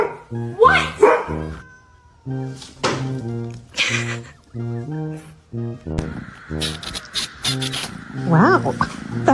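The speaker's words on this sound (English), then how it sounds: "Wow, that was a big meow." A pet cat lets out a loud, drawn-out meow among several other cries, close to the microphone, while people talk excitedly over and between the calls.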